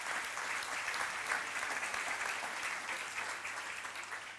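Audience applause at the unveiling of a commemorative Golden Jubilee EC $50 banknote, a steady wash of many hands clapping from the back of the room, moderately loud and continuous, easing slightly toward the end.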